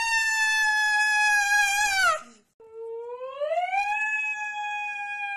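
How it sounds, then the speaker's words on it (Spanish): A husky lets out long, sustained siren-like howls, a loud wavering tone that bends downward, breaks off briefly, then swells upward again into another drawn-out wail. "¿Te imaginas dormir con este husky? ¡Parece una maldita ambulancia!"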